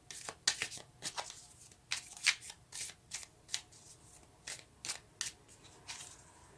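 Tarot cards being shuffled and drawn up close, with a run of crisp, sharp riffling and flicking bursts in an uneven rhythm over a quiet background.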